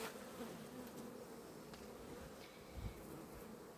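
Honey bees buzz around a queen bee being readied for the hive, a steady, fairly faint hum with brief louder passes of individual insects.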